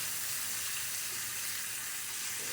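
Salmon fillet frying in hot oil in a pan, a steady, close, broadband sizzle with constant hiss and no talking over it.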